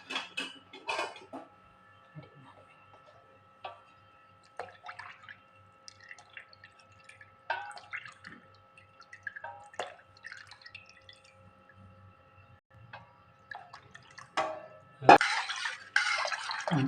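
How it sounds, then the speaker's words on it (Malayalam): Melted jaggery syrup is strained and poured into a pot for arrowroot payasam. Soft, scattered drips and trickles come close by, then a louder splash of pouring near the end. "ശർക്കര ഉരുക്കി വെച്ചിട്ടുണ്ട്. അത് അരിച്ചൊഴിക്കാൻ പോകണം."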